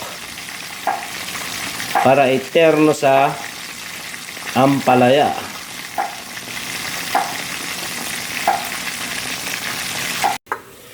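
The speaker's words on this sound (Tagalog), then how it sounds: "Prito tayo ng manok" Constant sizzling of chicken frying in a pan, with a person speaking briefly over it in a couple of short bursts.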